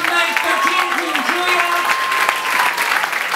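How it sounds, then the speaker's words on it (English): A comedy show audience breaks into loud, close applause for the night's comedians, with vocal whoops and cheers rising over the dense clapping throughout. "A big round of applause for all 12 comedians that you saw tonight."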